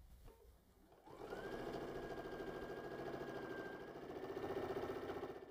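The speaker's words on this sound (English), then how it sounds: "we're going to just step to our machine and sew all the way across" A sewing machine runs steadily for about four seconds after a brief quiet start, stitching straight across the lining panels of a tote bag, with a sustained mechanical whir and rapid needle chatter throughout and no voices.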